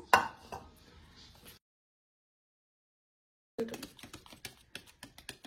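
Eggless pancake batter is mixed in a bowl, producing close, irregular tapping and scraping clicks that break off into a silent gap before a brisker run of sharp knocks resumes.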